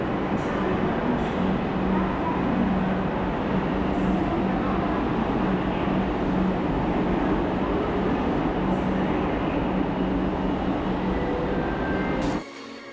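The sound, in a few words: Kolkata Metro train departing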